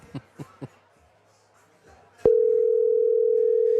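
A steady telephone ringback tone comes through a line at a high school football broadcast, sounding as one continuous loud hum after a sharp click, following a few faint knocks and murmurs.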